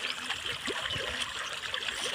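Water trickles and splashes steadily, a continuous pouring stream with light gurgles and no voices, as water is poured over a cow being washed in a village during Mattu Pongal.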